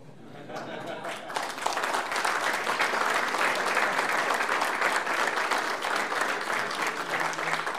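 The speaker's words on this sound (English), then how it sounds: "On your down days, you can just listen to people clapping at you." A board meeting crowd applauds a newly sworn-in board member, with sustained dense clapping building after a quiet start and holding steady at close range, and voices mixed in under it.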